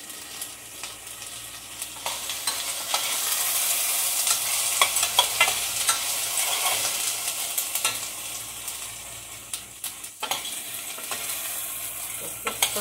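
Shell soup being stirred in a pot over low heat, a steady sizzle with scraping spoon strokes running continuously for the whole stretch, fairly close and with no voices.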